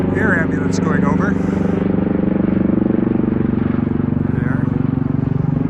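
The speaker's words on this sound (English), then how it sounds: "air ambulance going over." A helicopter, likely an air ambulance, passes overhead with a steady droning rotor and engine hum that holds throughout; someone speaks briefly near the start.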